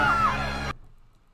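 A loud scream sound effect, a single harsh strained cry with a sliding pitch that lasts under a second and cuts off abruptly into near silence.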